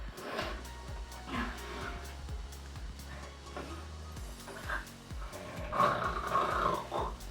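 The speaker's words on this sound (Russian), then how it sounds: "Прям хрюкать начал, а не чихать." A person snorts and grunts like a pig while straining to sneeze, producing rough, nasal, snore-like bursts that recur over several seconds at a fairly quiet level.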